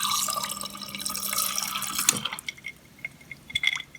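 Filtered water pouring from the dispenser of a Samsung RF23HTEDBSR stainless steel American fridge freezer into a cup, a close trickling stream that stops halfway, followed by a few scattered drips.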